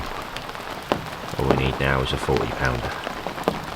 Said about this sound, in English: Lovely morning, rain tapping on the bivvy.